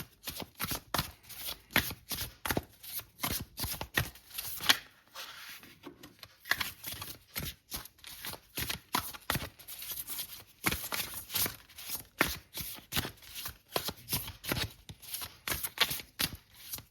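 Tarot cards shuffled by hand in a steady, crisp riffle, dense repeated flicks and slaps running continuously with only a brief pause, close and clear with no talking.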